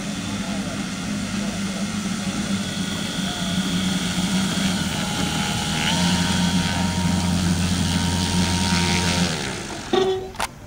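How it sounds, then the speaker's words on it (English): A Bearcat airplane flies with a steady droning engine roar that swells slightly and holds loud and close, then fades abruptly near the end, leaving a few brief clunks. "Excellent flying airplane."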